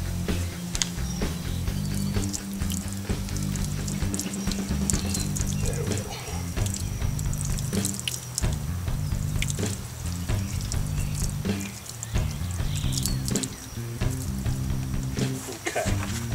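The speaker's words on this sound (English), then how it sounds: "I'm going to take some of this hot water and I'm going to rinse that acid off." Hot water rinsing acid out of a rusty 1998 Honda GL1500C Valkyrie fuel tank makes a steady, hissing, sizzling splash that runs throughout with brief drips and clatters, and someone speaks a few words over it.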